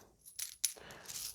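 Coins from a mystery box of Polish commemorative coins clink and jingle as they drop onto each other, a brief metallic shimmer of a few close, light impacts.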